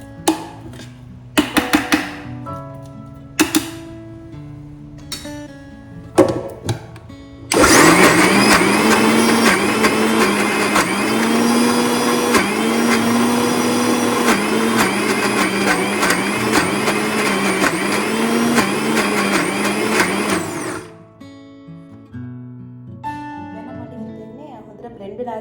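An electric blender whirs loudly for about thirteen seconds as it grinds soaked lentils into batter for parippu vadai. The steady, close grinding drone starts abruptly and then cuts out. A voice talks before and after, with some kitchen clatter.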